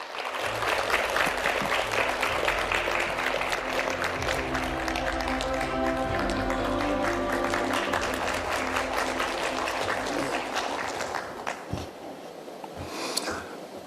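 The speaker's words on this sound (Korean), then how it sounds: "회장님께서 무대 위로 올라오실 때 환영의 박수로 맞이해 주시기 바랍니다." A large audience claps in welcome as a chairman walks onto the stage at a KBC forum, producing a dense, sustained roar of applause. It thins toward the end, leaving a few scattered claps.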